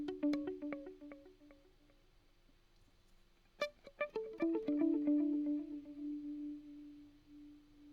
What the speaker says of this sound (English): So the theremin is just that much darker, and it has that really classic little bit of white noise following the repeats